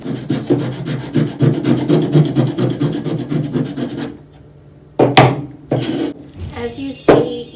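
Rhythmic rasping strokes of a file or rasp smoothing a wooden sculpture to remove splinters, repeating steadily and close for about four seconds, then a pause and a few separate scraping strokes.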